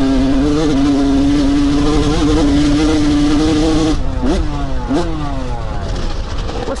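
Suzuki DRZ dirt bike ridden on loose sugar sand, its single-cylinder engine droning loud and close at steady revs before two quick throttle blips rise and fall near the end.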